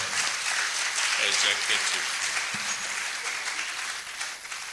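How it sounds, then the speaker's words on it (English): An audience at an inaugural lecture applauds the chair, a dense, steady wash of clapping filling the room throughout, loud and close. "A round of applause for our chair"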